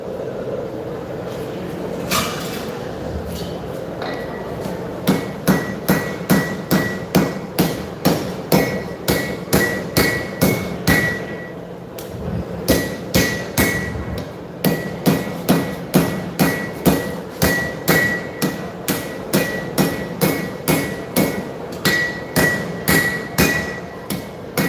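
Rhythmic hammer blows ring out on a knife blade being forged at a live knife show demonstration, sharp metallic strikes in quick regular bursts with a brief pause midway.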